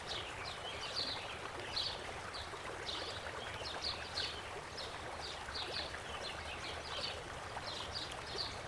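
Paintbrush being rinsed in a water container during an acrylic painting session, a soft continuous swishing and trickling with small repeated splashes, faint and close, with no voices.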